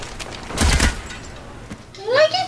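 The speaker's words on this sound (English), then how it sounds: "You got shot with something that had 3-round burst." Three-round burst gunfire in Call of Duty Black Ops multiplayer, a short loud cluster of shots near the middle, followed by a rising whine, with players talking.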